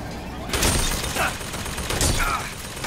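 An explosion from blowing something up in the game Bioshock Infinite, a loud sudden blast followed by sustained crackling rumble, with a second burst of noise shortly after.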